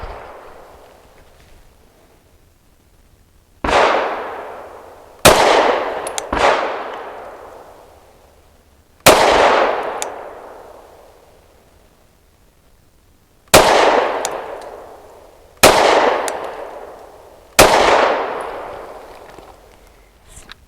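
Seven sharp, loud gunshots from a Canik METE MC9L 9mm micro-compact pistol fired at a target from 7 yards, spaced irregularly, each with a long echoing decay at an outdoor range.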